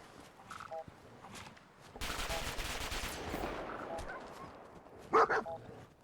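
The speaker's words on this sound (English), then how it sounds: "Multiple dogs." Several wild mongrel dogs in Fallout 4 bark in short bursts, some faint and some sharp and loud near the end, over a rough stretch of gunfire-like noise in the middle.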